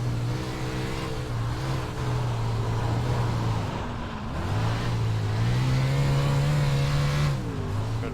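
A sprint car engine roars steadily at Kokomo Speedway in iRacing, its loud, sustained drone rising and falling with throttle as the car slides through slick dirt corners, with brief dips and recoveries in pitch and no talk.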